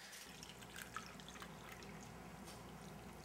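Jello being poured into a brain-shaped mold, a soft continuous liquid trickle with a few faint drips, quiet and steady with no talking.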